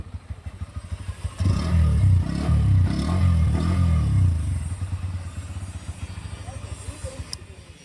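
A 2024 Bajaj Pulsar N125 motorcycle with an underbelly exhaust idles with a deep, rapid exhaust putter, swelling louder for a few seconds before settling back to a steady burble.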